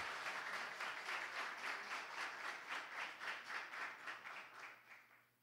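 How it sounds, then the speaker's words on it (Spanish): Audience at a book launch on the Dominican Constitution applauding in a steady rhythmic round, fairly distant and quiet, fading away at the end. "Lo recibimos con un fuerte aplauso."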